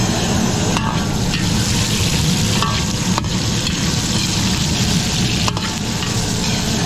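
Carrots and potatoes frying in a pan for a catering order, a loud continuous sizzle with frequent stirring scrapes and a few sharp clicks of a utensil against the pan.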